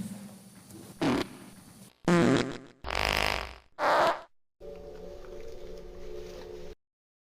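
Several loud, separate fart-like bursts, squelchy and broken, come up close one after another in a short burst-and-pause rhythm, then a long steady buzzing tone follows.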